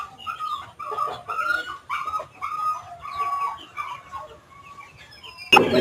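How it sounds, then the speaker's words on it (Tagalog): A chicken held in hand clucks repeatedly at close range in a steady, busy rhythm, ending with a sudden loud rustle or clatter. "yan ay manok"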